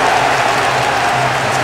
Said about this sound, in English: Home crowd alive here in Montevideo.